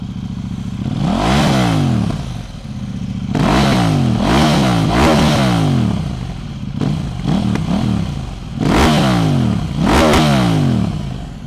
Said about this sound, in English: this exhaust, I must say, is very loud